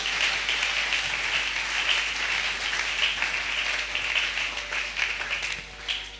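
A church congregation claps together in a dense, sustained burst of applause that fills the room and holds at steady strength, easing slightly near the end.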